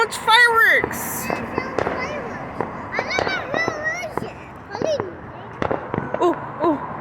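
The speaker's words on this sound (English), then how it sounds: "So much fireworks!" Fourth of July fireworks crackle and pop in scattered bursts at a 2022 celebration, mixed under lively shouting and chatter from a nearby group.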